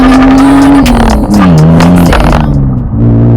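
Brand new rear tires squeal as the clutch grabs second gear, over a loud, close engine roar that climbs and dips in pitch.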